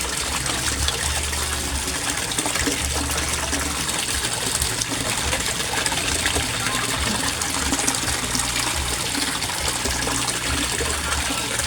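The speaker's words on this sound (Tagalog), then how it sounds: "Ang daming bubbles na naproproduce niya or na-create niya." Aquaspeed submersible pump bubbling water in a koi pond, a steady dense gushing and bubbling that holds constant and fairly loud throughout.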